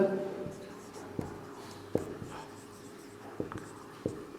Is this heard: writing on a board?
yes